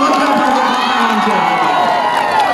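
A large crowd at a live concert at a festival in Nepal cheers, applauds and shouts loudly in a dense, continuous roar, with many voices blending together throughout.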